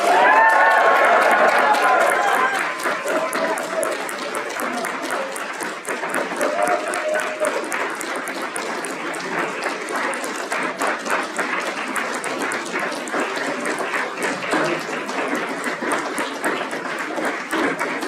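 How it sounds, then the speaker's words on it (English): A crowd at a university grand opening claps and cheers after a ribbon cutting, opening with a loud burst of whoops and voices, then settling into sustained, even applause that lasts a long while. "after that one, everyone clap and celebrate"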